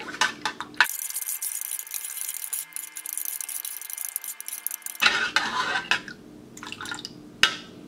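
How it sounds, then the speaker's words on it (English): A vintage 1940 Swedish mess-kit fork and spoon stir a French 24-hour ration meal, with repeated metallic scrapes and clinks against the tin up close, broken by a stretch of quieter hiss in the middle. "let's stir it up"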